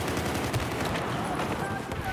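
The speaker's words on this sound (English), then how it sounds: "I gotta shoot them way more times than they shoot me" Rapid gunfire in the Battlefield 4 video game crackles in quick bursts, fairly quiet and dense, while players talk over it.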